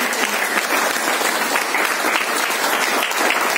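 Dense, steady applause from an audience welcoming a guest at a DXN business event in India, loud and sustained throughout with no talk.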